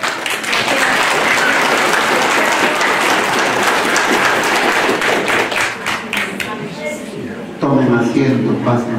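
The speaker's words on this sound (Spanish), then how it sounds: "vamos todos a recibirlo a los niños Yadiel y Yasmín con fuertes palmas." A church congregation at a baptism applauds two children with loud, steady clapping that carries on for several seconds, then fades as a voice speaks over the end.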